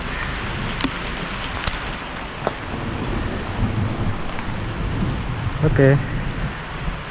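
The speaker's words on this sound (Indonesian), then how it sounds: "Kondisi hujan deras." Heavy rain hisses steadily during a downhill mountain bike ride on the Cikole track, with occasional knocks and rattles from the ride and a man's brief spoken word and vocal sound near the end.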